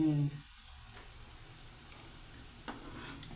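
Slices of elephant foot yam fry in oil, a soft, steady sizzle with faint stirring taps, after a brief voice at the start.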